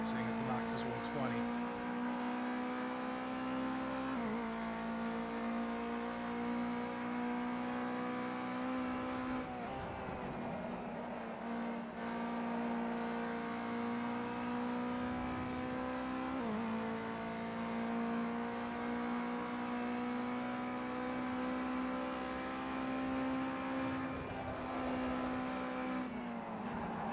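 Race car in Project CARS 2, engine droning steadily with repeated downshifts and revving dips under heavy braking, loud and close throughout with faint tyre squeal.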